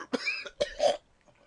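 A former smoker gives two or three harsh, wet coughs in quick succession, bringing up phlegm, close and loud, followed by quiet breathing.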